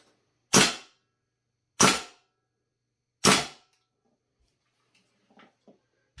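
VFC HK417D airsoft rifle firing: three evenly spaced sharp single shots, loud and close, followed by quiet with faint small clicks of handling.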